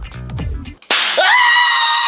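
A toy gun loaded with gunpowder caps fires a single sharp, loud crack indoors, followed by a sustained bright ringing tone; brief murmured talk comes just before the shot.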